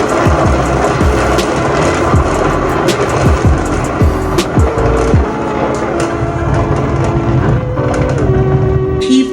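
A motorized paint spinner whirling a freshly painted canvas, a loud, close mechanical whir whose pitch repeatedly sweeps up and down as it spins up and slows.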